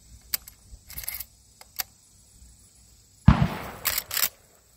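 30-30 cartridges fed one at a time into the loading gate of a Marlin 336S lever-action rifle, making scattered sharp metallic clicks, then a louder cluster of clacks and rattles as the rounds seat.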